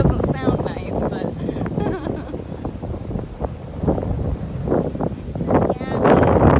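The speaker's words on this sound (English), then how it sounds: "Apologize if there's a lot of wind noise. It's getting pretty windy here." Heavy wind buffets the microphone outdoors on a windy day at a big cat rescue, loud rumbling gusts surging and fading continuously, with voices mixed in beneath the roar.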